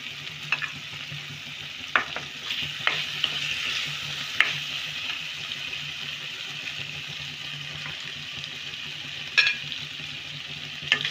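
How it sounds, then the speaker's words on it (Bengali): Paneer, sliced onion, tomato and capsicum frying in a pan, a steady soft sizzle with occasional sharp scrapes and clinks of a spatula stirring, no voices. "তো এবার আমি এগুলো সব কিন্তু দিলাম পনিরের সাথে।"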